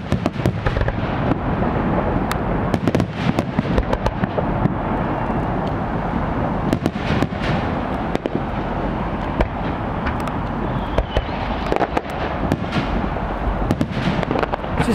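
Fourth of July fireworks over the Columbia River crackle and boom continuously, dense overlapping bangs and sharp pops layered over a rumbling low background, loud and sustained.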